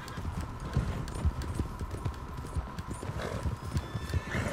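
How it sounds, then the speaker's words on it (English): Wild horses in Red Dead Redemption 2 gallop with steady, busy clip-clop hoofbeats through the whole stretch, a whinny rising briefly near the end over a dense, close rumble. "Oh look, wild horses."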